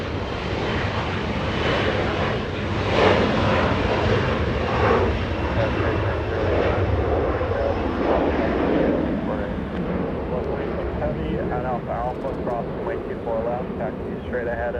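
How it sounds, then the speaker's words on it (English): A SkyWest Embraer E175 regional jet departs Los Angeles International Airport, its broad engine roar swelling and holding steady for the whole stretch, with radio-style talk running over the top throughout. "A little Embraer E175."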